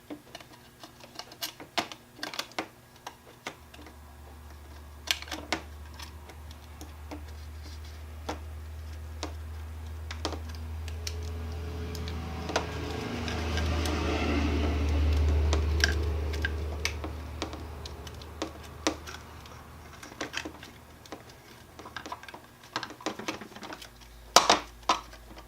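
Small plastic clicks, taps and scrapes while an LED circuit board is tucked into the acrylic tube of a rechargeable LED work light, scattered handling noises over a low hum that swells in the middle.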